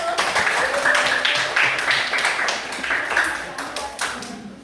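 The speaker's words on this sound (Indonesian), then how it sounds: "Beri tepuk tangan untuk kelompok 1." A class gives applause to a student group, with rhythmic, somewhat sparse clapping that swells then fades, and voices mixed in underneath.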